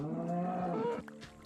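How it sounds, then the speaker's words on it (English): A Minecraft cow in an Alpha-version mod gives one close, low mooing call lasting about a second, followed by quieter background sound. "Oh, there's a cow in here."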